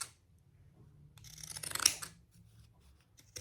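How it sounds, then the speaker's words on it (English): Pinking shears cut through fabric in one close, crisp crunching snip that builds to a sharp peak and fades, with quiet handling rustle before and after. "I grabbed my pinking shears."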